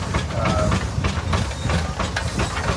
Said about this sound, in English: It's a 1920 50 horse steam engine.